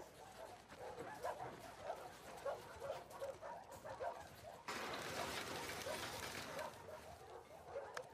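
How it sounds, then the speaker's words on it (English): Dog whimpering and yipping in the video game The Last of Us Part 2, a repeated string of short high whines over steady background ambience, moderately close, with a brief louder bark-like burst midway. "Hey, you crazy dog."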